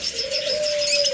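A pair of lutino opaline pet birds giving a short, close, loud cooing call, a single sustained note with no voices.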